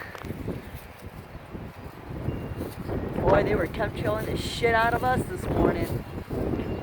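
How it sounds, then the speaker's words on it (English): Strong wind gusting at 40 to 50 buffets the microphone with a steady low rumble throughout, while someone talks over it. "I apologize for the wind gusts"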